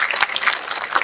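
Audience applause for the police at a political rally after a march, a short burst of scattered brisk clapping lasting about a second.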